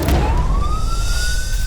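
Fire truck siren from the Depok fire department, a loud rising wail that sweeps upward and holds over dense traffic rumble in heavy evening congestion, with no talk over it.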